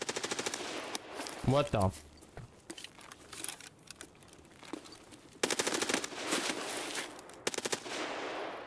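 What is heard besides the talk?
gunfire from Escape from Tarkov video game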